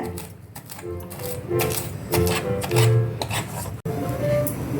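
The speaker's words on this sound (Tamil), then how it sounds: "இதை இப்படி எடுத்து அப்படியே நல்லா பொடிசாக நறுக்கிடுங்க." Rapid knife strokes finely chopping banana flower against a board in quick, steady bursts, close and crisp, with a brief pause partway through.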